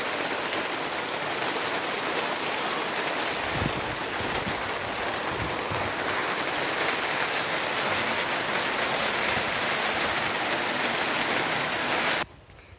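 Rain falls in a rural yard with goats and a cow nearby, a dense, steady hiss of drops spread evenly throughout, loud and close. A few low knocks come near the middle, and it cuts off abruptly just before the end.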